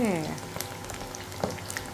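Hot oil bubbling and crackling steadily as food deep-fries, a dense close sizzle with small pops throughout.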